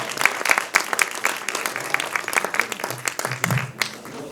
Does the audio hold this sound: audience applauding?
yes